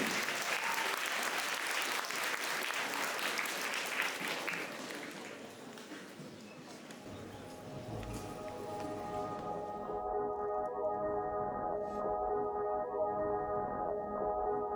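A concert audience applauds to welcome performers onto the stage, loud dense clapping that fades after about six seconds into quieter hall sound with a sustained musical tone.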